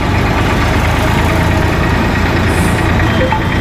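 A tractor loaded with a DJ sound system runs its engine loud and close, a steady, even diesel chug that fills the whole stretch with no voices.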